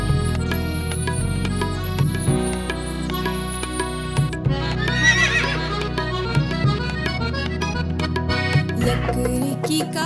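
Horse neighs and whinnies within a busy, steady musical backing of a Hindi nursery rhyme about a horse, the animal calls recurring over the rhythmic accompaniment throughout.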